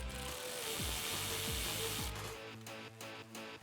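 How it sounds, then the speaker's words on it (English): Ratchet with a 7mm socket loosening a hose clamp on the cold air intake of a 2018-2020 Ford F-150 2.7L EcoBoost, a rapid clicking pawl close up in a few bursts, with no talking. "And then we could take our 7mm socket, put it on the clamp, and loosen that up."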